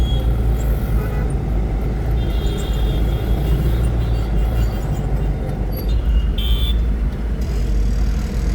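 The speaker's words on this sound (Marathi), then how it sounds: "आणि ट्रॅफिक बघा किती आहे" Road traffic at EBB circle, heard as a loud, continuous low rumble of passing vehicles with a faint, higher whine now and then and no break in the flow.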